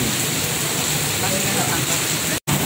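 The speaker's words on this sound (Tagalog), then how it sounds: "Grabe ang lakas ng ulan guys." Torrential rain beats down in a loud, unbroken wash of noise, interrupted by one brief dropout just before the end.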